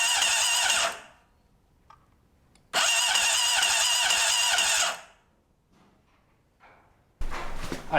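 A Honda CBR600RR motorcycle engine cranks repeatedly with the starter after the ignition is hooked up: two long loud whirring bursts separated by quiet pauses, then a third burst starting at the end, with no talk.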